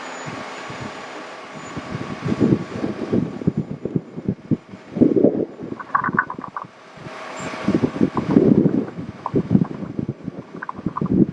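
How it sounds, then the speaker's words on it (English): Fire apparatus aerial ladder slowly lowering into its boom support, a mechanical hydraulic whir with uneven rumbling pulses and brief clunks, fairly close and steady over about eleven seconds with no talk. "slowly lower down into the boom support"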